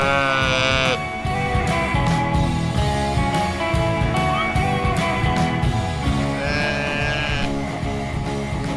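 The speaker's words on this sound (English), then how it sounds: "She seems to be the most vocal of all the sheep here." Sheep bleating on a farm, several drawn-out calls from a vocal ewe heard close and loud over a dense background of music or noise.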